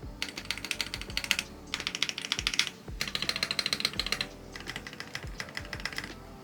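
Typing on an Essential75 HE rapid-trigger keyboard with plate-mounted stabilizers, close and clear: four quick bursts of dense, crisp key clicks separated by brief pauses, with no voices.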